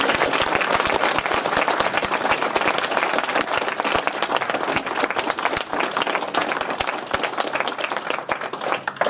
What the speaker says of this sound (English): Please give Diana another huge round of applause.